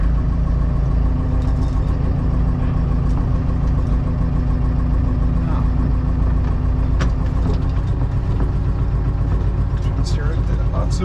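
Diesel engine of an abandoned CAT excavator under revival, running steadily at a loud, close idle with a constant low rumble throughout, with occasional clanks and creaks over the drone.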